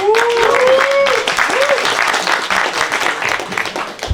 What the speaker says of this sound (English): I want you to give a round of applause, guys